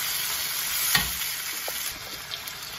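Meat sizzles and is stirred in a hot pan for spicy special fried rice, with carrot, broccoli and cauliflower nearby; steady close frying hiss with occasional scrapes and pops, no talk.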